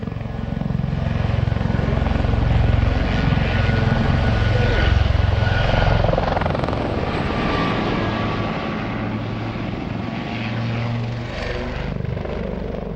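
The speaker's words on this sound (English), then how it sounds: "Flying close formation in rotary aircraft is a dangerous business" Helicopters of the Blue Eagles display team flying in close formation at the Waddington airshow, a loud continuous rotor and engine drone with throbbing low thump, rising and easing slightly as they pass nearby.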